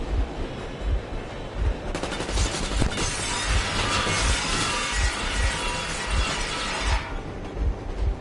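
Machine gun warning burst in Metro Exodus: a dense, loud rattle of rapid shots lasting about five seconds over a steady low engine rumble, with softer mechanical sounds before and after.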